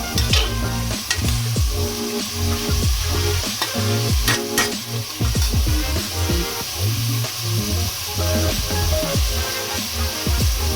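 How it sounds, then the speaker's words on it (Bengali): Vegetables frying in a pan while being stirred, a sizzling hiss broken by repeated scraping and clattering strokes of a utensil, close and loud without any talk. "এটা ততক্ষণ একটুখানি ভাজা হোক"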